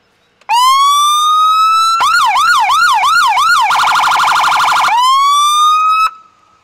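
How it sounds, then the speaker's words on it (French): A loud Ford Crown Victoria police car siren cycles through a rising wail, a fast warbling yelp and a rapid pulsing tone before returning to the wail, then stopping abruptly. "On a la sirène avec."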